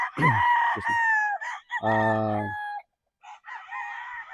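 Battle stag gamefowl roosters at a game farm crow loudly and close, one long full crow in the middle framed by shorter calls and clucks, with a brief pause of near silence.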